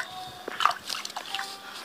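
Water is poured from a bucket in Minecraft, a brief gurgling slosh and splash with watery trickles lasting under two seconds, moderately close, with no talking.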